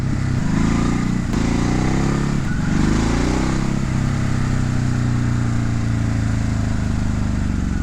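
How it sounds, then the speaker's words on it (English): A 2019 Ducati Hypermotard 950 engine rumbles loudly and continuously while riding at low speed, with a couple of quick throttle blips that rise and fall in pitch early on. "Even at these little low speeds, you just blip the throttle."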